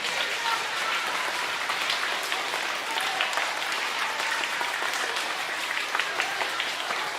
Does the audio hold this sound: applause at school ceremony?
yes